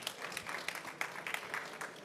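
Audience applause in a conference room for a regional coordinator at a COP29 session, a steady patter of many hands clapping at moderate level throughout the short stretch.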